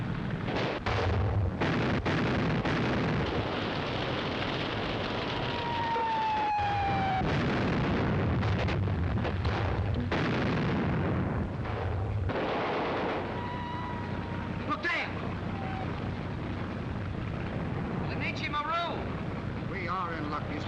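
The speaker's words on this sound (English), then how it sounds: "Battleships are opening up. We can't lie out here all night with the shells going places." Battleships fire artillery at night, heavy booms and rolling blasts at a distance over wind and water noise. Voices talk through much of the shelling.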